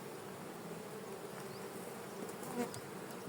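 A steady, close hum of many calm honey bees buzzing fills the air continuously, with an occasional louder bee passing nearby.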